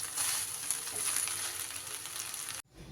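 Ingredients for an old-fashioned home recipe sizzle steadily while being stirred together in a pan, a continuous close frying hiss that cuts off abruptly near the end.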